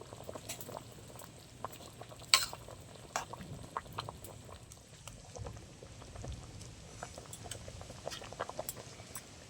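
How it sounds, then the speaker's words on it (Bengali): Chicken with spices in a pot for chicken biryani, stirred and simmering, gives a soft, steady bubbling with scattered scraping ticks and one sharper clank, fairly quiet and continuous with no talking. "এবার একটু নেড়ে দেবো মশলার সাথে ভালো করে।"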